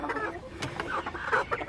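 Several chickens clucking close by, a busy overlapping chatter of short murmured clucks throughout.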